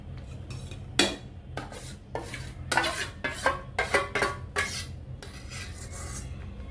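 Spinach is stirred into onion puree in a pan with repeated scraping and clattering utensil strokes in uneven bursts over a low background hum, close up, without speech.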